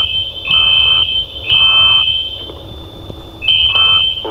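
Fire alarm ringing indoors: a loud, shrill electronic tone sounding in repeated bursts of about half a second, with short gaps between them.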